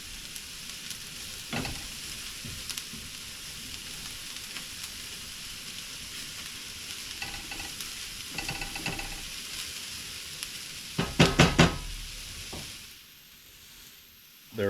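Mushrooms and shallots sizzle over medium heat on a gas stove, a steady crackle broken by spatula stirs and a short burst of clattering scrapes near the end before the sizzle drops away.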